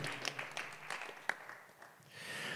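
Applause for fighters at a GAMA Hateful 8 fight press conference: a steady wash of scattered clapping with a few sharper claps, at moderate loudness, with no speech.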